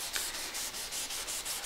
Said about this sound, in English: So we've done all the sanding we're going to do